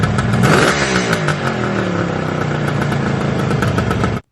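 A vintage Kawasaki 750 H2 two-stroke triple motorcycle runs loud and close, with a blipped rev near the start before it settles into a raspy, crackling idle that cuts off abruptly.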